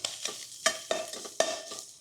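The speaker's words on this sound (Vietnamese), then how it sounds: "Mình sẽ cho tỏi băm vào đây" Minced garlic frying in a spoonful of cooking oil in a pan, with a spatula stirring and scraping in quick, soft repeated strokes over a faint sizzle, close by and without speech.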